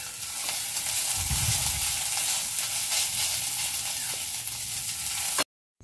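Ginger and garlic frying in a pan on a gas flame, a full steady sizzle close up with occasional scrapes and a low rumble early on, ending in abrupt silence.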